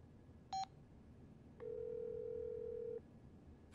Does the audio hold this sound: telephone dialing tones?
yes